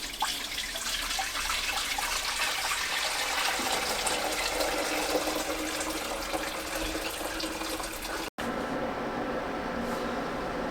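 Hot liquid is poured over brewing grains into a stock pot, a continuous rushing splash of water that runs for several seconds, then cuts off and gives way to a quieter, thinner trickle.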